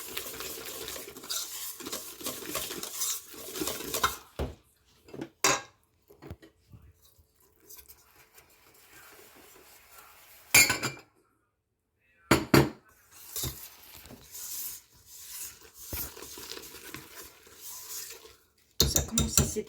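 Yeast, flour and salt being mixed in a bowl, with bursts of utensil clatter and scraping against the bowl separated by silent pauses, fairly close and moderately loud.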